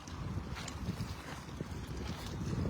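Strong headwind at sea during a fishing trip, gusty rumbling wind buffeting the microphone with a low roar and some water movement, steady and close for a few seconds.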